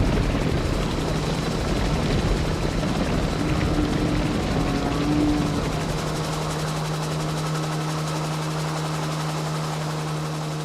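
A helicopter used for cattle mustering in Australia drones steadily with a deep rotor hum and engine whine, loud and continuous, easing slightly toward the end.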